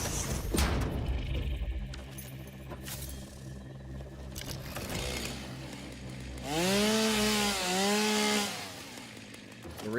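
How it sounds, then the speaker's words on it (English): A video game chainsaw revs loudly, its motor whine sweeping up and down in pitch through several rising and falling surges, mixed with clanking game effects and a low background drone. "The reason why I'm using my chainsaw for that is because it has an AoE clear"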